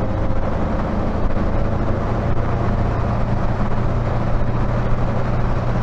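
A Triumph Dolomite Sprint slides around in second gear on a little throttle, its engine a steady, loud, low drone with rumbling wind and road noise close by and no break.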